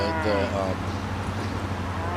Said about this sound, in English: The cows are making funny noises.